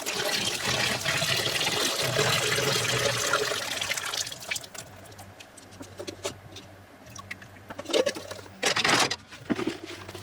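Boiling water is drained off orange peels for candied peel, giving a rushing splash that pours out and fades, followed by scattered drips, trickles and clanks of the pot nearby.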